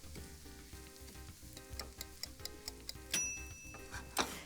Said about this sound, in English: I'm just gonna toss them together and just saute it for about 3 minutes